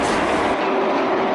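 Train at the Gampa railway station in Sri Lanka, a close, loud rumble of rolling wheels and carriages with a steady tonal hum, cutting off abruptly at the end.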